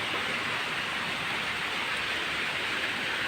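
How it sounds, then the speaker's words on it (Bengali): Steady rain falls through a rainy afternoon as an even, continuous hiss, close and constant throughout with no talking. "বৃষ্টি হচ্ছে।"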